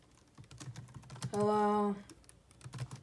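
Someone types on a computer keyboard while writing basic HTML, a quick run of light key clicks with a spoken greeting in the middle.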